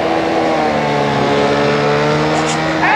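Car engine revving on a 1989 Thames television show, a loud sustained motor drone with steady harmonic tones, accompanied by voices.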